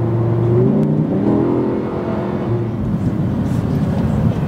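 A 2017 Audi R8 supercar engine revs hard, its pitch climbing and falling through sweeping gear-like steps, then settling into a loud, rough, sustained rumble nearby.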